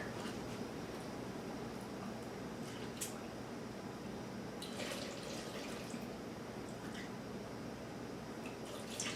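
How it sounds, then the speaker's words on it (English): Whole milk pours into a mixing bowl holding flour for a basic batter, a soft steady liquid trickle with gentle splashy bursts, close and quiet with no talk. "I'm going to put in 2 cups of whole milk."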